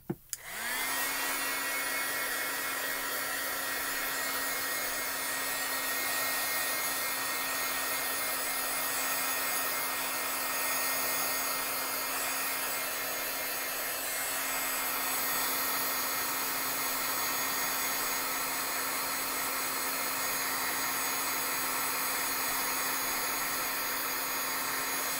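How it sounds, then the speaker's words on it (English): Heat tool runs steadily for the whole stretch while drying white paint on a card, a loud, even blowing roar with a constant hum; no one speaks. "just going to hit it with the heat tool just to dry the white off"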